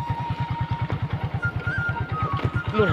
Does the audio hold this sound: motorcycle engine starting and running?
yes